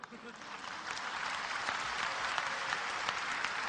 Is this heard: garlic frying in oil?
no